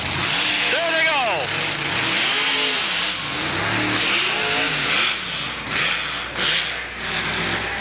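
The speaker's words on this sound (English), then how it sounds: "Simply Irresponsible up against Borus the Monster Truck. Chev against Ford." A Chevy car and a Ford monster truck launch side by side in a drag race at a motor show, engines roaring and revving loudly under continuous commentary and crowd noise.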